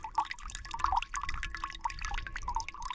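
Water trickles and drips in quick, irregular bursts as a Sawyer Mini filter is squeezed at a wild camp in the Lake District, close and fairly quiet with no talking.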